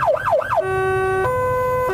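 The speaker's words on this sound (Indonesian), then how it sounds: "Untuk suara ambulans sendiri seperti ini." An ambulance siren sounds loud and close, first with a fast rising and falling wail, then switching to a steady two-tone hi-lo pattern, with no talking over it.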